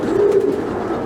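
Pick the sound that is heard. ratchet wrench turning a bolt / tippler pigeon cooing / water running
tippler pigeon cooing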